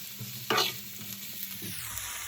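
Chopped vegetables for vegan spring garden pittas sizzle in a pan while being stirred, with one louder scraping burst early on, then a steady soft crackle.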